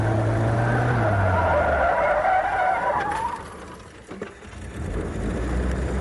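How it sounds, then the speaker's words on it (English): A race car on a skid pad with the throttle floored, engine roaring as the rear tires spin and squeal, a sustained loud skid that shifts in pitch and briefly dips before surging again. "I'll rev the engine, I'm going to just nail the gas pedal to the floor, and by doing so, it will spin the rear tires"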